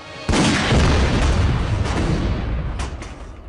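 A single loud, deep gunshot booms close by and rolls into a long, rumbling echo that slowly fades.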